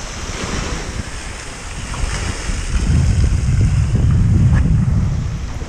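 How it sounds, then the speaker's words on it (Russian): Waves wash against the Lake Tahoe shore in a steady rush, swelling louder midway, with gusty wind buffeting the microphone. "От волн переливается."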